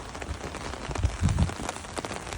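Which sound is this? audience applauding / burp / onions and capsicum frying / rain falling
rain falling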